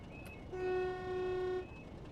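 A locomotive horn sounds at a level crossing on the West Somerset Railway in Train Sim World 2, one steady, loud tone held for about a second with a slight dip midway, over a low rumble of the moving train.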